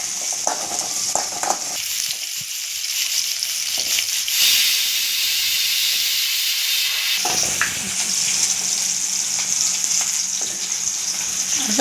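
Small shallots sizzle in a spoonful of oil for a cowpea curry, a loud steady frying hiss punctuated by stirring scrapes, easing briefly in the middle before surging back.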